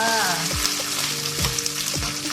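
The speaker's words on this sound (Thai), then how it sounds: "ให้กรอบๆเลยนะจ้า พลิกไปพลิกมานะคะ นี่นะคะ ให้ทบกรอบๆเลยค่ะ" A Thai shellfish pancake frying in hot oil until crispy, with a steady sizzle and a few scraping strokes of a spatula as it is flipped back and forth.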